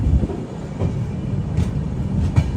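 The Ernakulam Patna Express rolls into Banaras railway station with a loud, steady rumble of wheels on track and a few faint clanks from the carriages, heard from on board.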